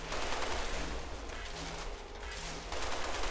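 Gunfire in the video game Halo: Master Chief Collection, a dense rattling fusillade of rapid shots layered over a busy game soundscape, moderately loud and continuous without spoken words.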